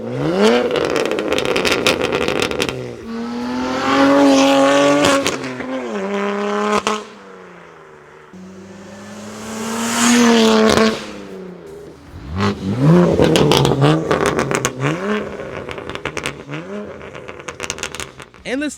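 A BMW M3 is driven hard at high speed, its engine and exhaust roaring up through the gears in repeated surges, with brief easing between pulls and some clatter.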